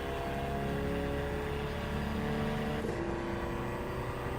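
A race car engine in Gran Turismo at Tsukuba Circuit, droning loud and continuous as it holds revs through a corner exit, with no talk over it.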